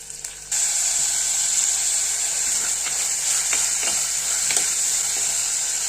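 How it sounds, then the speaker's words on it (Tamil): Onions dropped into hot oil in a pan for a Tamil mutton and potato curry, starting with a sudden loud sizzle and then a steady, close frying hiss with occasional stirring scrapes. "எண்ணெய் நல்லா சுட்டுட்டு இப்போ நம்ம வெங்காயம் போடுவோம்"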